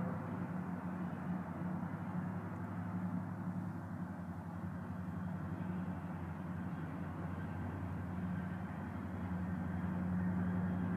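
CN EMD GP40 and GP38-2 diesel locomotives rumbling at a station, a low steady engine drone that holds evenly at moderate distance, with no voices.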